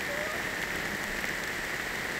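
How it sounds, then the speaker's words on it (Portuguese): Steady rain falls at the Zooparque in Itatiba, a soft, even patter on surfaces that holds without pause, moderately quiet and unaccompanied by talk. "A chuva tá caindo"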